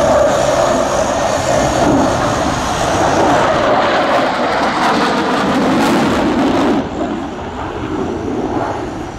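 An aircraft flies aerobatic manoeuvres at the RAF Cosford air show, its engine roaring loudly as it passes, with a broad rushing swell that fades after a few seconds into a more distant drone.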